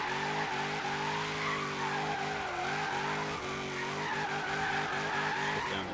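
A Mustang drifts sideways in the racing game Forza Horizon 3, its engine droning loud and steady with continuous tire squeal, the pitch wavering as it shifts and slides, no talking.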